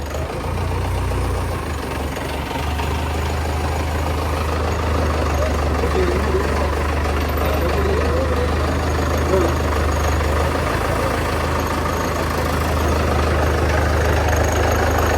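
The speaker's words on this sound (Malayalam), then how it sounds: "നമ്മുടെ പഴയ DI എഞ്ചിൻ്റെ സൗണ്ട്." An old DI diesel engine idles in a 1995 Mahindra Willys 4x4 jeep, a steady low throbbing rumble held evenly throughout at close range, with some talk faintly over it.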